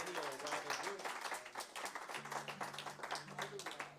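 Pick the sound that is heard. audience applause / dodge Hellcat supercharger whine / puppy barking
audience applause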